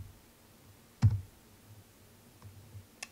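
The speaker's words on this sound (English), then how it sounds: "if I tap D on the keyboard" A single key tapped on a computer keyboard gives one distinct click near the start, followed by a couple of fainter clicks in a quiet room.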